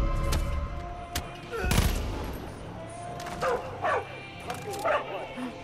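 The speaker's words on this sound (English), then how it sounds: "Oh, it's a dog." A dog barks repeatedly in the video game Far Cry 5, several short barks scattered through busy game noise with a few sharp gunshot-like cracks.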